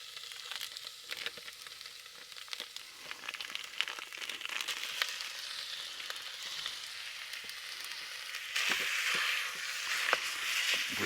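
Ground beef sizzles and crackles steadily in a pan with softened onions while spaghetti sauce is made, a dense close frying hiss that swells a little louder toward the end, with light stirring scrapes and no talk.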